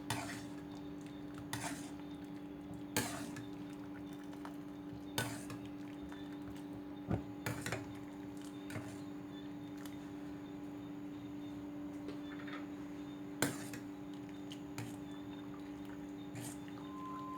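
Brown sugar is stirred in a pan to dissolve it for gravy, making occasional sharp clinks and scrapes of a utensil against the metal over a steady low background hum.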